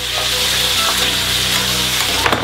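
Beef and onions frying in a pan while being stirred for beef and carrots, a loud continuous close sizzle with light scraping, no talking.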